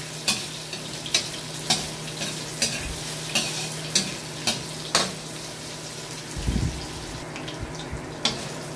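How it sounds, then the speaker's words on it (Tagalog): Steady sizzling of squid balls frying in hot oil, with regular taps and scrapes of a utensil stirring the pan every half second or so. "Prito ko lang saglit ng squid ball."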